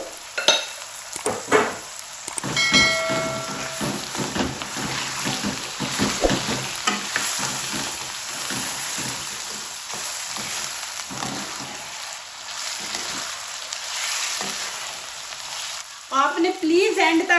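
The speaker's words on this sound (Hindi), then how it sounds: "इसके अंदर अब कीमा डाल देंगे" Minced meat (keema) frying in hot oil, a steady loud sizzle with scraping stir strokes throughout, nobody talking.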